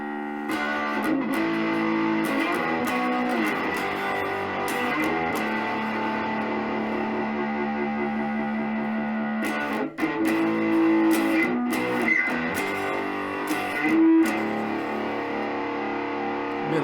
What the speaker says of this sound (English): neck pickup on the Fesley with distortion